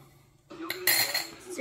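Glasses clinking together in a toast, a couple of bright close clinks following a soft thud, with quiet voices and background sounds around them.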